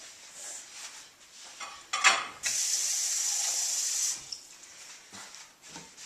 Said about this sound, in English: once you've added the bacon grease, sort of stir it around a little bit